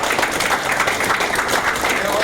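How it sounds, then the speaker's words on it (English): A group at a San Francisco 49ers mentorship academy applauds its varsity athletes, with a continuous, fairly loud wash of clapping and voices mixed into it. "let's give all our varsity athletes a big round of applause"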